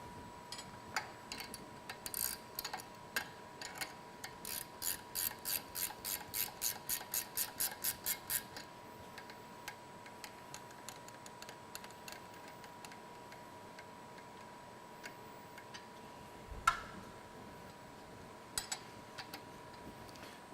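A rapid ratcheting tick, likely a wrench, runs in quick regular bursts, then gives way to scattered clicks and clanks while dampening cylinders come off a MacNeil RS-701 SuperFlex wrap-around car wash motor.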